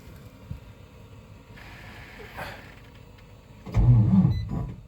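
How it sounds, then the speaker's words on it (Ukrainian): A truck engine cranks and fails to start in -25° cold: a quiet, faint whirr runs for a few seconds before a loud, low mechanical churning bursts in near the end, close by. "зараз я спробую завести її. Почуєте, який звук вона видає."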